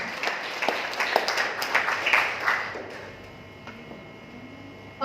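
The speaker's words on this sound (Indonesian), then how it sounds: "Itu ya, aplaus untuk Eco Farming." Audience applause for an Eco Farming presentation at a PT BEST marketing-plan meeting: scattered clapping from a moderate-sized crowd, fairly close and lively, then thinning out and fading into quiet room noise.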